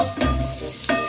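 Pork humba adobo sizzling in a pan, with two brief stirring scrapes against a continuous close frying hiss.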